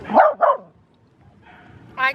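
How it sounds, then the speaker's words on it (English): A dog gives two quick barks close by at the start, followed by a brief whine or yip at the end, with a quiet pause between and no talk. "Dogs."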